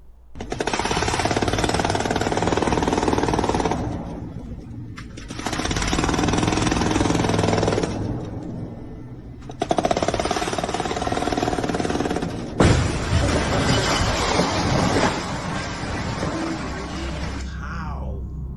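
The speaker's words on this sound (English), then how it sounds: "this being a hydraulic hammer that is performing a demolition of a bridge" A hydraulic hammer on an excavator pounds at a bridge during demolition, a loud, close, continuous rattling burst that stops and restarts several times, with cracking and crumbling concrete between bursts.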